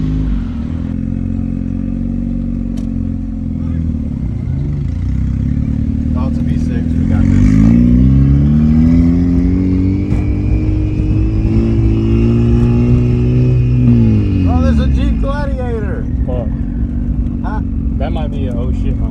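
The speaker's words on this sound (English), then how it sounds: "This is actually us out there racing on the track." A race car driving on a race track, its engine droning steadily and then sweeping up and down in pitch as it accelerates and eases off, loud and close throughout.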